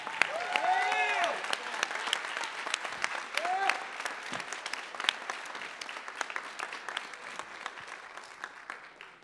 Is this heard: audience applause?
yes